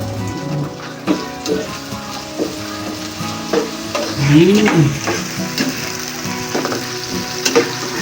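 Onions added to a pan after garlic for chicken curry fry with a loud, close crackling sizzle, broken by scraping and clattering strokes of a spoon stirring them, while a voice briefly talks over it.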